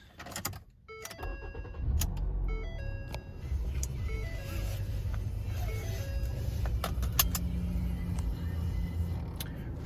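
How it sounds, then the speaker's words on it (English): A 2011 Ford Fusion SE started from inside the cabin: key and chime clicks, a brief cranking burst, then a steady low engine idle under faint interior chimes. "Go ahead and start the vehicle."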